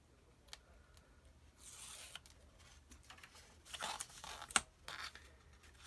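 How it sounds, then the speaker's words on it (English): Adhesive tape is peeled from a paper file-folder album page, a faint tearing strip with a sharper rip near the end, quiet and close with no talk. "Then take your tape off."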